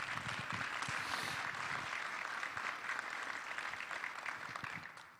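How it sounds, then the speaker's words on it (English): Quiet, even applause from an audience at an innovation event, a continuous wash of clapping that tapers off over about five seconds. "I'd love to give round of applause"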